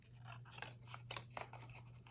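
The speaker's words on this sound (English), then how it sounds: "it makes it much easier if you just move the paper and leave the scissors still" Small scissors make quiet, close snipping sounds in a rapid, uneven series while fussy cutting paper for a shutter window card, with a low steady hum underneath.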